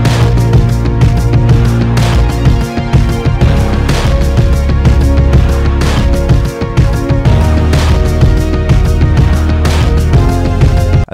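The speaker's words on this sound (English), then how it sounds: "So yeah, altogether the beat sounds like this. This is the main section." Full hip-hop beat, loud and dense with steady drums, heavy bass, synths and an arpeggiated element playing continuously.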